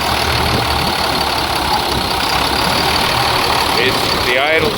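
An old car engine idles after sitting unused for years, a loud, steady close rumble that holds even throughout, with a brief higher warbling tone near the end.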